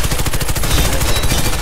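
Rapid automatic gunfire from a gun in the video game Warface, a loud, continuous burst of closely spaced shots with a dense, crackling texture throughout.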